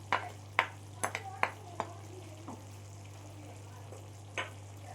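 Mutton with ginger, garlic and dry chilli paste stirred in a pan: sharp, scattered spatula taps and scrapes over a faint sizzle and a steady low hum.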